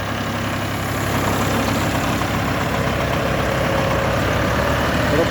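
A Shifeng tractor engine idles steadily close by, a continuous low diesel rumble with one cylinder slightly louder than the other three, unbroken for the whole stretch.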